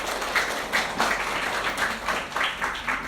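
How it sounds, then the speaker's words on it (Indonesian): An audience applauds after an Indonesian university teaching presentation, a dense burst of clapping from many hands in the room that swells in rhythmic waves and carries on steadily for several seconds, with no voices over it. "Kita applause untuk kita semua."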